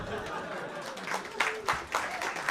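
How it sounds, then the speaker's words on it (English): Comedy club audience applauding and clapping after a comic's set, a soft wash of claps from a moderately distant crowd with a few louder bursts. "Clap it up for me."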